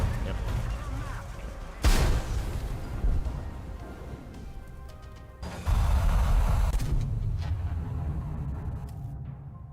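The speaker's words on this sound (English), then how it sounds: "Love the Eurofighter gun." A Eurofighter's cannon fires in a flight combat video game, with two harsh broadband bursts of gunfire cutting over a continuous engine drone.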